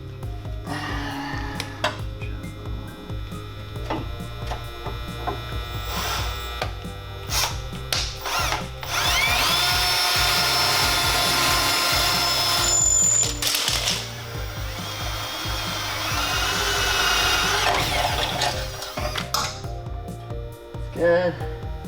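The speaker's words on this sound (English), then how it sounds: "And then I'm just gonna take the drill." A power drill bores mounting holes for an LED light bar on a 2005 Dodge Ram 5.9 pickup, sounding as two sustained whirring bursts with short pauses and clicks around them.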